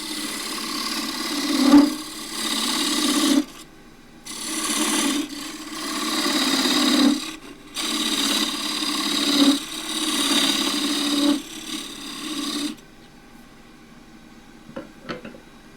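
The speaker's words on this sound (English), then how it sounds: "I'm going to take this out with my 3/4 inch square end scraper" A 3/4 inch square end scraper cuts wood on a spinning lathe while a display dish is turned, giving a loud, close rasping hiss in long sustained passes broken by short pauses, then a quieter lathe hum with faint ticks.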